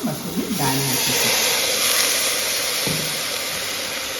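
Soaked red lentils tipped into a pan of hot tomato masala set off a loud, steady hiss and sizzle that carries on throughout, with a brief clatter early on and a cook talking over it.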